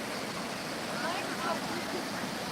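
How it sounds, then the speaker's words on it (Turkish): The Aşıklar (Nebiler) waterfall pouring, a constant broadband rush of falling water that fills the whole stretch, with faint voices buried beneath it. "Burada birinci şelale başlıyor."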